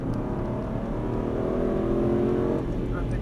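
An Aston Martin Vantage on the Dreux circuit, its engine droning steadily and building under load as the throttle reopens out of a corner, loud and continuous throughout.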